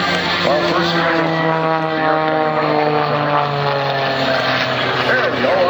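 A propeller-driven aerobatic airplane performs a torque roll at the Lehigh Valley International Airport airshow, its engine holding a loud, steady droning whine for the whole stretch while faint voices carry beneath.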